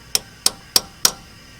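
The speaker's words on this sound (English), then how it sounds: "then he's going to give them a little tap with the hammer to make sure they're seated" Four sharp metallic hammer taps, evenly spaced about a third of a second apart, seating valve stem seals on a Toyota Supra engine head during a build; close and crisp with quiet between strikes.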